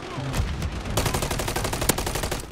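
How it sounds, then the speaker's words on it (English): Rapid video game gunfire: a loud, close burst of many quick shots, dense and continuous for a couple of seconds with a sharp crack near the end and no talking. "Taking effective fire!"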